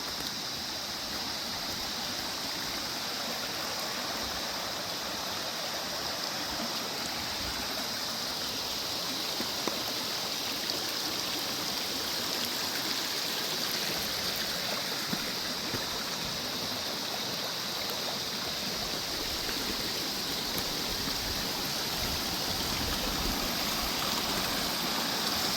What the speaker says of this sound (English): Here's another feeder creek, flowing really well.